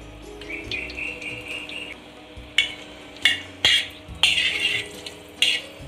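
Bay leaves, cinnamon, cardamom and cloves dropped into hot oil for a Bengali country chicken curry, a soft sizzle broken by several sharp clanks and scrapes of a utensil against the pot.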